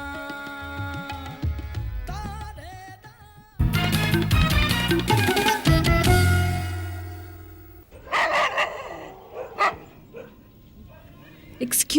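Dog barking on an Indian house visit, a guard-dog style bow-wow heard in loud bursts mixed with music and voices, ending in sharper yips and barks.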